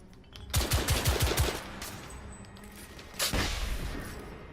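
Gunfire in The Order: 1886, a rapid burst of about six close automatic shots followed by a ringing tail and a later single heavy blast, no voices.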